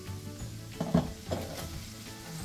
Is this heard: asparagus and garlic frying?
yes